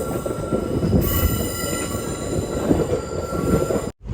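The Ernakulam–Velankanni biweekly express crosses an old railway bridge above a highway, its wheels rumbling and squealing loudly and continuously before the sound cuts off abruptly.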